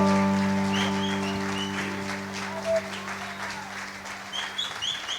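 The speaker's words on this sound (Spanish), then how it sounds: "vamos a recibirle con un fuerte aplauso." A church congregation gives a welcoming round of applause during a Spanish-language Sunday morning service, with scattered clapping under a sustained organ or keyboard chord that slowly fades.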